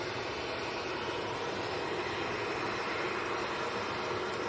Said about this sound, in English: Lufthansa A321 just appearing from behind the tree